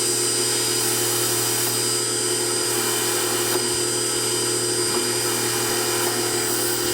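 A Myford Super 7 lathe cuts 316 marine-grade stainless steel with carbide inserts, making a loud, continuous mechanical hum with a steady tonal whine and no voices.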